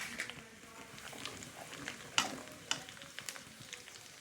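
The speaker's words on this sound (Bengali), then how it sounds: "কড়াইতে অনেকটাই তেল রয়ে গেছে। এর মধ্যে আমি দিয়ে দেব শাহি জিরে।" Shahi cumin seeds sizzling in hot oil in a wok, a quiet crackling patter with scattered sharp pops and spits over a soft frying hiss.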